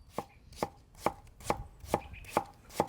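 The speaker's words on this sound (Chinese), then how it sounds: "切点酸萝卜泡椒" A knife chops pickled radish and pickled chilies on a cutting board, seven evenly spaced, crisp, close thuds about half a second apart, with no talking.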